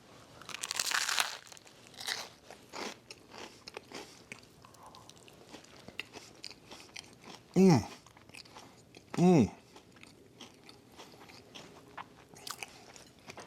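Someone bites into creamy chicken salad, producing soft crunching and chewing close up, with faint rustles and background noise, and a couple of brief louder vocal sounds.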